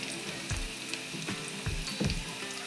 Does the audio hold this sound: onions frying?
yes